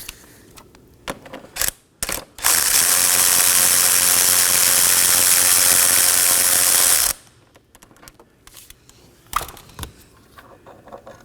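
A ratchet zips loudly and steadily for several seconds, removing a 10mm bolt from the transmission cooler bracket on a 2018-2024 Chevrolet Equinox, with brief clicks and handling sounds before and after.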